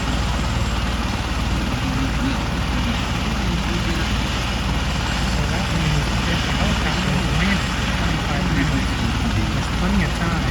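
A medical helicopter at a hospital helipad runs with a continuous loud engine whine and rotor drone, steady and close, while people talk over it.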